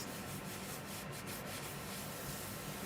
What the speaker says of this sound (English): apply my surface wax here. Get it all on my surface.